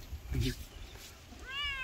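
Pet cat on a goat farm, one short rising-then-falling meow near the end, heard close after a brief low noise.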